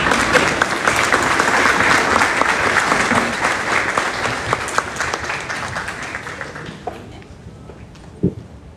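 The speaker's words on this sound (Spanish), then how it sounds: "Les invito a todos a recibir al doctor Bernal con un fuerte y respetuoso aplauso." A lecture-hall audience gives loud, sustained applause to welcome a speaker, dense clapping that holds steady and then fades out over several seconds.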